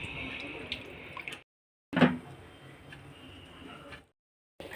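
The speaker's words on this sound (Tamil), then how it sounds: "தண்ணி நல்லா கொதிச்சிருச்சு." Water boils hard in a cooking pot ready for rice, giving a bubbling, gurgling rush in separate bursts broken by short silent gaps, close and moderately loud.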